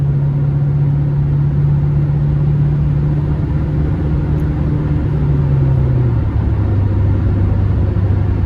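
A 2000 Nissan Frontier XE King Cab with a naturally aspirated 2.4-litre four-cylinder accelerates while driving, a steady loud engine drone with a rising tone that shifts down in pitch midway as road rumble continues underneath.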